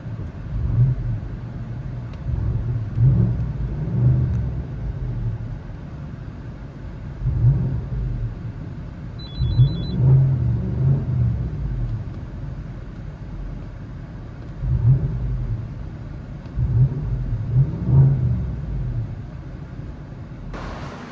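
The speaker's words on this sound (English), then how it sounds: "19 Escalade with a Corsa Extreme system, Corsa Performance, catback single exhaust." Cabin view of a 2019 Cadillac Escalade 6.2L V8 with a Corsa cat-back single exhaust, giving a muffled low drone with repeated gentle surges as the engine pulls, heard steadily from inside.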